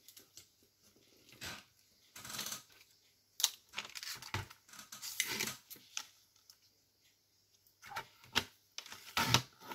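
Scissors cutting a sheet of paper for a flipbook craft, with repeated crisp snipping and rustling bursts separated by brief pauses, close up and fairly quiet, no talking.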